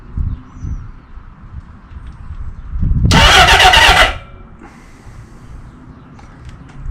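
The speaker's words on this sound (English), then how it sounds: "So hopefully we should hear the starter motor click on." The starter motor on a Honda CB750 cafe racer in neutral engages with a loud, whirring crank for about a second, then cuts off, leaving a quieter hum afterward.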